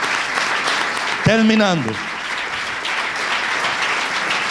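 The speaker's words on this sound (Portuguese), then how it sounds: "Aplaude a Deus pela sua vida" A church congregation at a Sunday service claps in a steady wash of applause while one voice calls out a short drawn-out cry and a word is spoken over the clapping.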